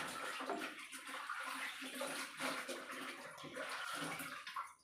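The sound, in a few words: fish pieces dropped into simmering curry, splashing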